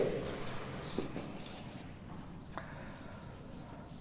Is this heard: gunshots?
no